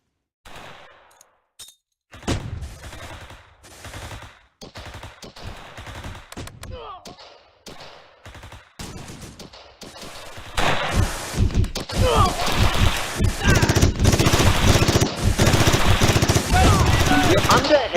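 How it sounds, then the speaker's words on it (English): Heavy gunfire from the Close Combat video game. It starts with scattered loud shots and bursts and builds into a dense, sustained volley of rapid machine-gun fire with crashes. "We're under heavy fire."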